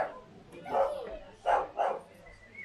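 Three barks from a dog ring out nearby in a quick sequence, one bark then a pair close together, fairly loud against a quiet room.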